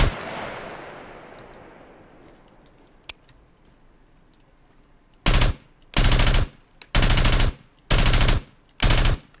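Gunfire from a weapon in the video game Scum: after a fading ambient wash and one sharp single shot, five loud bursts of automatic fire follow in quick succession, each about half a second long, close and alone.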